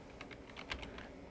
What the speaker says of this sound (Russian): Мы вводим в адресной строке браузера